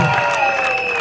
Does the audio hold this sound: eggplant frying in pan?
no